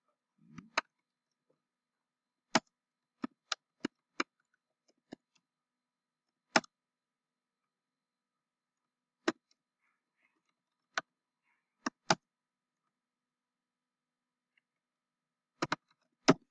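Sparse computer keyboard keystrokes typing answers into a quiz, isolated crisp clicks scattered irregularly across a quiet background, some in quick bursts of two or three.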